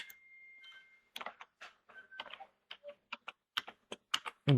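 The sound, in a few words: typing on a computer keyboard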